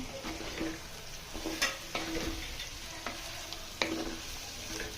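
Raw mango pieces sizzle and fry in a spicy curry for a tangy pulusu, a steady crackle broken by a few sharp clicks of a spoon against the pan, with no talking.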